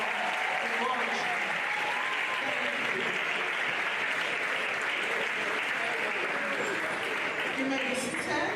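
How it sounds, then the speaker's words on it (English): An audience at a university lecture on sociophonology applauds continuously and evenly, with no talk over the sustained clapping. "Another round of applause for Professor UGORJI."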